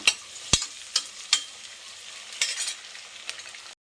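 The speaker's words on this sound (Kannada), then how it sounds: "ಫ್ರೆಂಡ್ ಈರುಳ್ಳಿ ಎಲ್ಲ ಚೆನ್ನಾಗಿ ಫ್ರೈ ಆಗಿದೆ" Onions frying in a pan for chicken biryani, a soft crackling sizzle punctuated by several sharp, close clacks of a spatula stirring against the pan.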